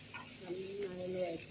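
Curry leaves sizzling in hot oil in a pan while a dosa breakfast is cooked, a faint crackling hiss heard briefly and quietly.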